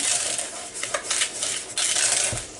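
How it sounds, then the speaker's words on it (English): A spoon stirs a cinnamon mixture in a bowl, producing close, irregular scraping and clinking against the bowl with brief sharper knocks. "you need 4 tablespoons full of cinnamon. So we're just going to get that stirred up."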